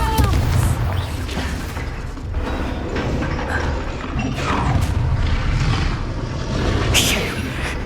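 Spell blasts in Hogwarts Legacy crack and boom one after another over a dense, rumbling battle mix, with a sharp burst standing out near the end.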